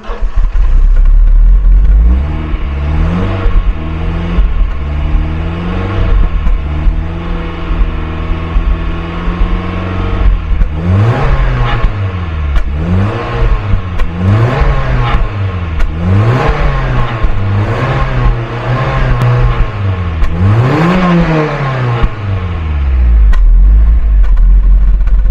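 A stock, all-original engine cold-starts and is revved repeatedly, its loud, rough tone rising and falling in several close, surging pulls before settling back toward idle.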